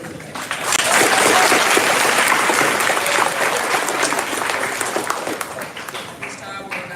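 An audience at a memorial celebration of life applauds, broad loud clapping that swells in the first second and holds steady for several seconds before thinning slightly.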